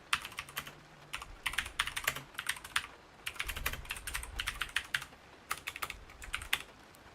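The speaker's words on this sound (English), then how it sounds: "if I'm typing something like this," Rapid clicky typing on a mechanical keyboard with blue switches, close up, in bursts of keystrokes separated by brief pauses.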